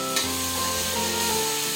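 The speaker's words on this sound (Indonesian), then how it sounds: "aku goreng tempe aja" Tempeh fries in a pan with oil, a steady close sizzle and crackle with a brief clatter near the start, no talking.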